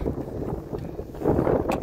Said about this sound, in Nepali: हावा पनि चलिरहेको छ।